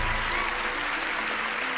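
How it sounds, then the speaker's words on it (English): Dense audience applause from a live television magic show crowd, steady and loud throughout with no pauses. "Please give a big round of applause for Bill."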